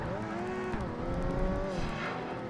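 A Ford Lightning SVT race car engine in Project Gotham Racing 2 drones close and loud, its pitch rising and dipping through gear changes, with tire noise mixed in.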